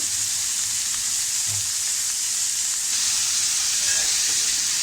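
Shredded cabbage masala stir-frying in a pan, a steady close sizzle and hiss running unbroken throughout with faint stirring movements underneath and no talking.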